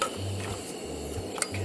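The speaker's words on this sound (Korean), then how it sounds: "흐물흐물하게 변하게 될 때까지 양파를 볶아 주시는 거예요" Chopped onions stirred in melted butter in a pan over medium-low heat, with a few soft scraping and clinking touches of utensil against metal and low hum underneath; brief and fairly quiet.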